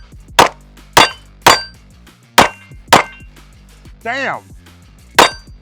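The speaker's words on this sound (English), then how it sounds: "Let's run the first mag through the Apollo 11, chambered in a 9mm, 17 plus 1." A Live Free Armory Apollo 11 9mm pistol fires about seven sharp, loud shots at uneven intervals, each with a short ringing decay; a man briefly exclaims between shots.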